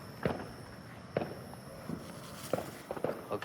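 Fireworks going off nearby at night, a series of sharp, loud pops and bangs spaced irregularly, some close together, over a steady background hiss.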